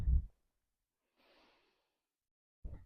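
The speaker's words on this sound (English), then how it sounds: "Breathing deep." Deep breathing during a yoga warm-up: a soft, faint airy exhale standing alone in near silence between two short low thumps or breaths at the start and end.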